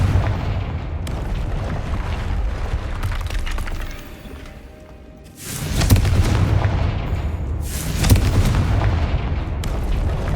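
Confringo blasting-spell explosions in the Hogwarts Legacy video game: a rumbling bed broken by several sharp, loud booms a couple of seconds apart, each with a crackling, shattering burst.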